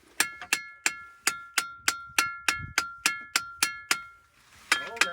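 Struck bell rocks ring out in a steady series of sharp metallic pings at different pitches, about a dozen evenly spaced hits, a short pause, then a few more, clear and close with no talk.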